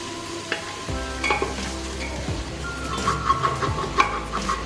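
Long-sliced onions tumbling into a hot pan for Kerala chicken biryani, with a clear drop around one second followed by steady sizzling and intermittent stirring scrapes, close and fairly loud with no talk.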